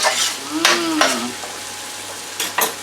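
A spatula stirs and scrapes sirloin steak beef hash sizzling in a pan, a few loud, close scraping strokes over steady frying noise, with no talk.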